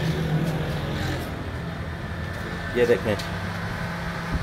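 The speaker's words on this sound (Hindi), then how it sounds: "फ़ैन की आवाज़ आ रही है" A car's radiator cooling fan runs during an actuation test with a steady, even whir, while someone speaks over it close by.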